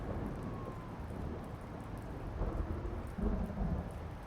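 Thunderstorm with steady heavy rain in the Blacksad video game, a dense wash of rain with low rumbling thunder that swells toward the end, no voices.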